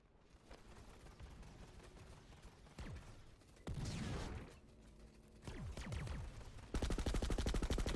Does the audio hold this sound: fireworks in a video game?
yes